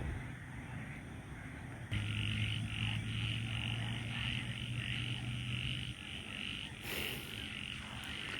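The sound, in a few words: frogs croaking at night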